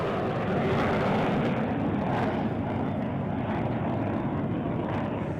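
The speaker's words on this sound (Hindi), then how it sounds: "डकोटा और डॉर्नियर विमानों का फॉर्मेशन है जो राइट टू लेफ्ट आपको जाता हुआ दिखाई दे रहा है" Indian Air Force Dakota and Dornier propeller aircraft pass overhead in formation at an Air Force Day flypast, a loud, steady engine drone that fades slightly toward the end.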